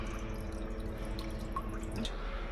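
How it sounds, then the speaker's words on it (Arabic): Water trickles and drips gently in a steady soft flow, with small splashes, nearby and quiet, in an old Damascus house. "صوت المي هذا هيك خفيف"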